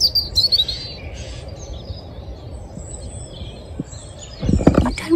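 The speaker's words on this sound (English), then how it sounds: "It's a great tit calling right above us." Great tit calling from just overhead in early-morning birdsong, with high chirps early on against a steady low outdoor rumble and a louder rustling burst near the end.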